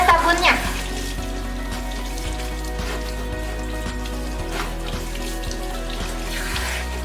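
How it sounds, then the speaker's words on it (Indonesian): Running water from a tap streams steadily as soapy hands are rinsed clean, a close, continuous splash. "Kalau udah tinggal dibilas sampai kesat, gak ada sabunnya."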